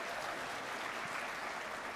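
Steady, dense applause from a conference audience fills the hall, an even wash of many hands clapping without a break or any voices.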